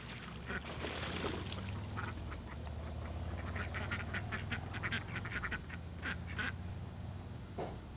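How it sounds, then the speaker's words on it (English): Several ducks quack repeatedly nearby while swimming in fresh water, their calls overlapping against a steady low background hum. "the ducks are swimming in their brand new fresh water."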